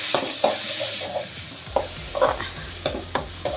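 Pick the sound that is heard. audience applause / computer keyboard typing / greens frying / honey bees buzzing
greens frying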